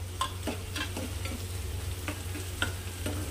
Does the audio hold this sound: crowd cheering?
no